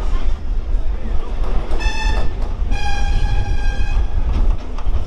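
A passenger train bound for Gede runs near Kanchrapara station, with a steady close rumble of wheels and carriages and two loud horn blasts partway through.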